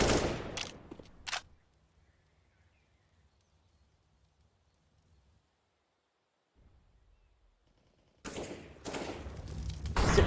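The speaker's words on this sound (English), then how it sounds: "random pot shot through the smokes from Adam will take him out" Counter-Strike: Global Offensive gunfire in a professional esports match comes in short, loud bursts, falls into near silence with a faint hum for several seconds, then returns as a dense, sharp volley.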